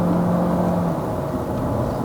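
A 2023 Chery Omoda 5 with a 1.5-litre turbo engine and CVT gearbox accelerates hard with the pedal floored, giving a loud, steady engine drone and whir heard from the cabin, with no talking.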